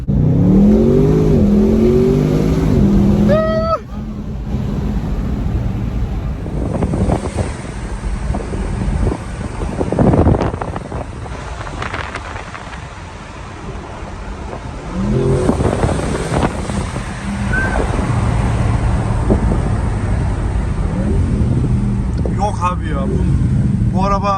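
An Audi RS6 driving and accelerating, its engine rumbling and rising under heavy wind buffeting at the microphone, with people talking and laughing over it throughout.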